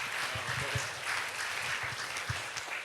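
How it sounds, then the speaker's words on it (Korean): A crowd at a church youth worship service applauding steadily, dense clapping sustained for a few seconds at moderate volume. "들어가실 때까지 큰 박수로 맞이해 주세요"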